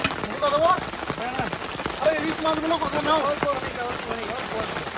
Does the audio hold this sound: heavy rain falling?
yes